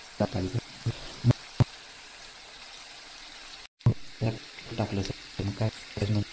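Onion and spices sizzle in hot oil for Schezwan noodles, a low steady frying hiss under intermittent talk, with a brief cut partway through.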